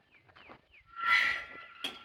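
Dairy cows in a pasture moo, one long loud low call in the middle with shorter fainter calls around it, heard close by in an otherwise quiet field.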